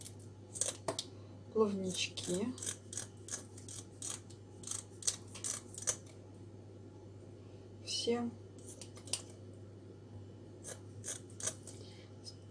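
Kitchen scissors snipping a fish's tail and fins in a home kitchen, giving scattered sharp clicks and cuts at a quiet level over a steady low hum, with occasional speech.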